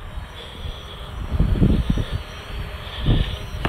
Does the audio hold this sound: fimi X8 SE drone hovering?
yes